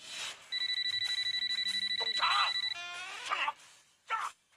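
A steady electronic telephone bell rings continuously for about two seconds, with brief speech before and after it.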